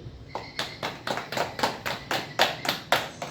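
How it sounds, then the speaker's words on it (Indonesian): A classroom of students claps in unison, a rhythmic series of about ten sharp, evenly spaced claps, fairly close and moderately loud with no talking over it. "kasih tepuk tangan dulu"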